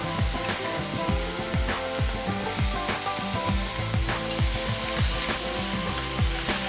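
Ground masala frying in oil in a pan for a fish head pulav, giving a steady, close sizzle with intermittent stirring scrapes over tonal background sound.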